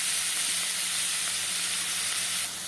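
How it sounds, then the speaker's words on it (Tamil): Onions sauté in hot oil for chana masala, giving a continuous, even sizzle and hiss that holds steady before dropping slightly at the end. "வெங்காயத்தை போட்டுடலாம். வெங்காயம் நல்லா வதங்கட்டும்."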